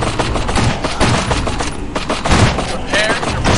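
Dense, continuous gunfire from a Dawn of War battle between Dark Angels and Chaos Space Marines, loud bursts layered into a steady battlefield roar with short booming accents, and no clear talk.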